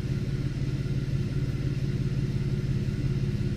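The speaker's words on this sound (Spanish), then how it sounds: "Si lo pueden escuchar ahí, tiene misfire, el auto está errático." A 2010 Chevrolet Camaro engine idles with a misfire, its steady low rumble carrying an uneven, faintly stumbling pulse throughout, close and continuous with no voices.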